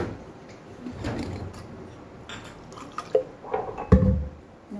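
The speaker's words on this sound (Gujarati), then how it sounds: "સરસ આપણે એક પેસ્ટને ગાળી લઈશું" Ground paste being strained with cold water in a home kitchen: soft liquid trickles and drips alongside light clinks and knocks of utensils, quiet and intermittent.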